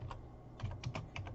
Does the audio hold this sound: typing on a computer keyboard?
yes